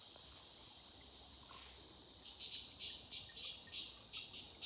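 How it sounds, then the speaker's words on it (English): Cicadas chirp outdoors in Mooloolah Valley, Queensland, a steady high-pitched shrill drone that pulses with a rhythmic beat partway through, loud and continuous with no talk. "Hello, cicada."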